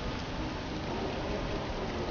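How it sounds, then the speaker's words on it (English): Steady rain pours down in a Star Wars game set in a canyon near a castle, a dense, even hiss with no breaks that fills the whole stretch and sounds close. "this rain's like acid"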